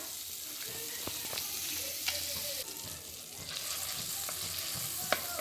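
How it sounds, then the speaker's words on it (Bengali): Butter melting in a wok (kadai) for Indian-style white sauce pasta gives a steady, moderate frying sizzle with scattered small pops and occasional utensil clinks, with no talking. "প্রথমে বাটারটাকে ভালো করে মেল্ট করে নিতে হবে"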